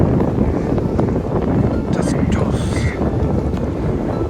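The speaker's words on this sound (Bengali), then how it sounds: "অনেক সুন্দর এখানের বাতাসটা আওয়াজটা আপনারা" Strong wind roars and buffets against the microphone at South Ghoramara beach, Sitakunda, loud and continuous, with faint voices in the background.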